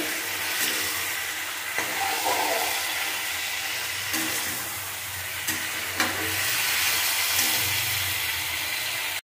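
Stinging catfish fries in a pan while being stirred, a steady loud sizzle and hiss with occasional soft scraping stirs.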